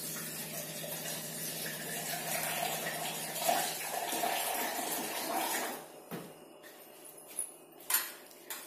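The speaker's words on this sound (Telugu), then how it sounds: "ఆ మిక్సీ జార్ లో కొద్దిగా వాటర్ పోసి అవి కూడా పోసేస్తున్నాము" Water poured from a vessel into a mixer jar in a kitchen, a soft, close trickling splash that fades out, followed by a few light clinks of the jar and utensils.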